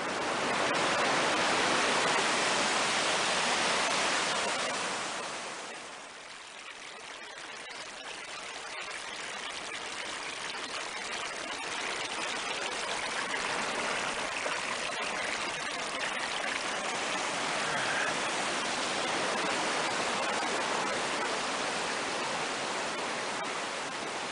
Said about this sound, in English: the river's over there